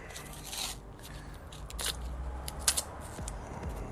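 Scissors or a blade cutting through tape laid over a motorcycle kickstand block, heard as a few sharp close snips and crackles over a quiet background.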